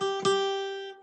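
A single cleanly fretted guitar note is plucked and rings out with a clear, sustained tone that decays gradually over about a second, heard alone.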